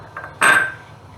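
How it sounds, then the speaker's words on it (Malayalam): A spoon strikes a pan while condensed milk with sugar is stirred: a faint tap, then one bright, ringing metallic clink close by that fades quickly. "ഇളക്കുന്നു."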